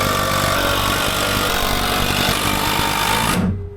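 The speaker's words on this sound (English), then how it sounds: "now we're just gonna screw this into those joists" A loud, continuous power-drill whine and rattle, close up, as heavy duty screws are driven into wooden treehouse joists, holding steady for several seconds before cutting off abruptly.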